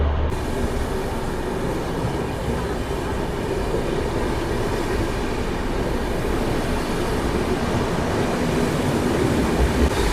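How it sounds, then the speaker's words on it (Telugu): A Visakha Express passenger train runs close alongside in a steady, loud, continuous rumble of wheels and carriages, with no voices. "సో మన పక్కన ఉండేది విశాఖ ఎక్స్‌ప్రెస్ ట్రైన్."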